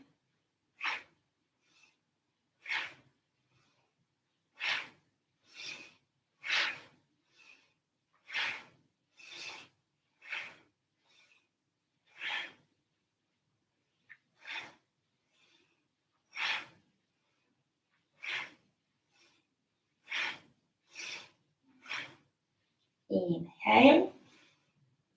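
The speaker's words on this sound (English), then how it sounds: "Breathing with energy." Forceful breaths during a yoga detox exercise, a regular series of about fifteen sharp, close exhalations spaced roughly every second or two, ending with a brief spoken phrase.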